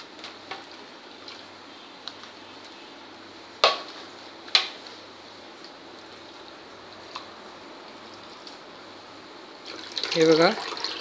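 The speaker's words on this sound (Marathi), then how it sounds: "हे बघा, हा बटाटा आपल्याला पाण्यात घालायचा आहे." Grated potato for sabudana chivda goes into a bowl of water, producing a short splash and slosh near the end after mostly quiet kitchen background with a few faint clicks.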